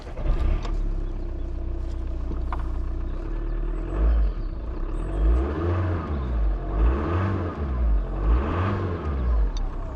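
An Audi A3 1.9 TDI diesel runs close by, a steady engine drone with rising and falling revs and a faint whistling whir from the turbo over it.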